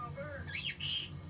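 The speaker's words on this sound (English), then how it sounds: "It's a bird." A pet bird perched on a person's shoulder lets out two sharp, loud, high squawks in quick succession over a faint background hum.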